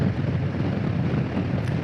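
Strong wind gusts buffet a motorcycle rider passing through a cut in the mountains near Bailey, Colorado, a loud rumbling roar that fluctuates with the gusts.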